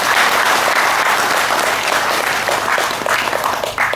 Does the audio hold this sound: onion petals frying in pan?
no